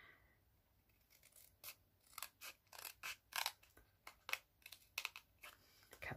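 Scissors snip through cardstock for a stamping project, a run of crisp, close cuts building into repeated bursts that grow louder toward the end, with no talk.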